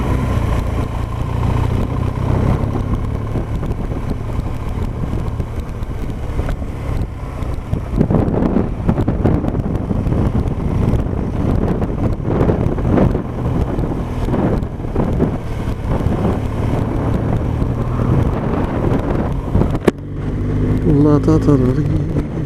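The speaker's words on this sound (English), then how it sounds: "that wind's relentless." Relentless wind buffets the microphone while riding over bits of tree, a constant roaring rumble with gusting surges and a brief voice.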